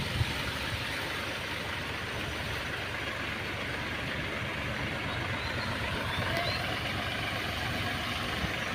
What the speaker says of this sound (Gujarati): હજુ ટ્રેક્ટરમાં ગાલ દીધું તું ને ફસી ગયું હે ટ્રેક્ટર ફસી ગયું અંદર